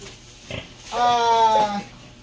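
A pregnant sow in a gestation pen grunts and lets out a drawn-out squealing oink up close, following a shorter snort.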